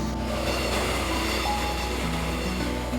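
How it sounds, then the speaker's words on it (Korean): A train on the Yeongdong railway line rumbles past close to a house, a steady loud roar with faint rail clatter and no talking. "열차가 지나가는 걸 보자"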